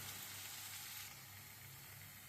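Tomato, ginger and garlic sautéing in a pan for a fish salna, giving a steady, quiet sizzle with soft crackle that holds evenly throughout, with no voices.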